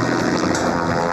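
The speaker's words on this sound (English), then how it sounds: "Choppers have to be brought in to herd them into the corral." Rotor and engine drone from helicopters flying low to herd bison into a corral, a steady loud continuous whir with no talk.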